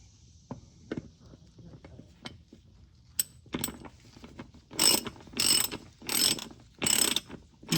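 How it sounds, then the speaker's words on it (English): A ratchet clicks as it snugs a transmission drain plug standpipe on a 2022–2026 Toyota Tundra, with soft scattered ticks before a run of four louder, close bursts of rapid pawl clicking, no talk. "So I'm not going to use any handle on the ratchet."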